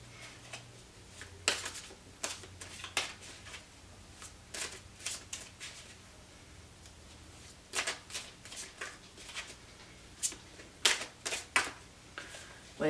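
A tarot deck being shuffled by hand in irregular bursts of crisp riffling and flicking with quiet pauses between them, close and fairly soft.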